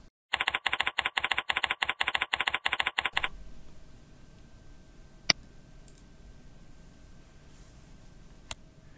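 Rapid, even clicking of a computer keyboard as a short note is typed, a loud close run of keystrokes lasting about three seconds, then quiet room tone broken by two isolated clicks.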